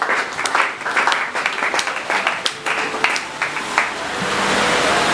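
A church congregation applauds during a tribute service for Pastor Aristote Mukendi, with dense, uneven clapping and some loud individual claps near the listener, building into a steady roar toward the end.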